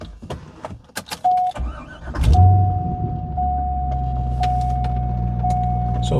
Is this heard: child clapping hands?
no